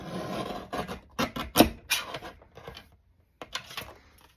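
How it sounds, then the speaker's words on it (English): Edge of paper being trimmed, loud close scraping and rasping strokes in uneven bursts, a handful of rough cuts with short pauses. "I'm going to trim this edge up here."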